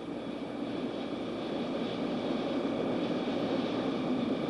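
A Bell OH-58 helicopter engine runs steadily with the throttle being raised, a continuous loud broadband roar and whine that holds level throughout with no speech.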